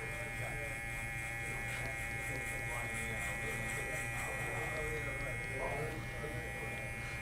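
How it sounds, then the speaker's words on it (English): An FX1 series cordless hair clipper cuts curly hair, giving a steady, fairly quiet electric buzz with faint snipping texture throughout, while someone talks softly in the background. "I'm gonna start with the clipper all the way closed, and then I'm gonna click it back just one."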